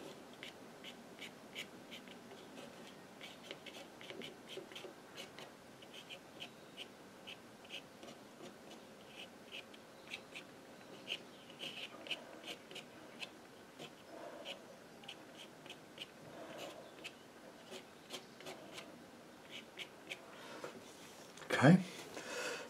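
A card scraping across a watercolour painting to lift out paint, a soft, steady rubbing and rasping heard close and quietly while someone talks throughout.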